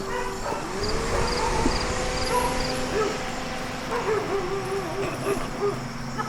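Emaciated dogs in a backyard yip, whine and bark, fairly faint and distant, over steady outdoor background noise.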